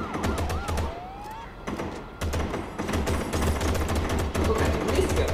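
Rapid gunfire in a city crime video game, with bursts of clattering shots over a steady, thumping backing track and other game noise.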